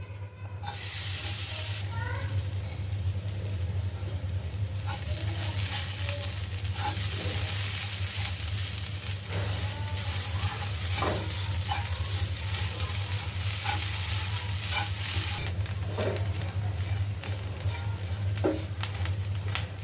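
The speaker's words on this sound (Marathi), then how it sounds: "त्याच पॅनमध्ये आता आपण खोबरं भाजायचं आहे" Grated coconut roasting in a pan, with a continuous close hiss and crackle of dry heat broken by occasional scrapes and taps of a stirring spoon, with a steady low hum underneath.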